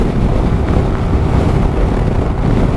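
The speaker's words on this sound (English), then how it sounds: "it is a lot of wind here on my face" Steady, loud wind buffeting a helmet microphone while a 2023 SYM ADX 125 scooter climbs a steep hill at full throttle, a constant low roar with no speech.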